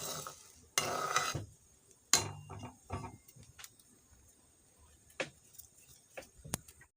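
Spoon stirring sugar into a bowl while making semolina sweets at home, heard as a series of scattered light clinks and scrapes with brief louder knocks, close and fairly quiet with no talking.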